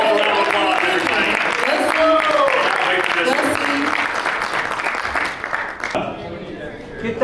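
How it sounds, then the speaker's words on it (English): Round of applause from the room at a boxing press conference for Shadasia Green vs Franchon Crews-Dezurn, dense clapping and crowd noise over voices and shouting, thinning out near the end. "Let's give a round of applause, everybody."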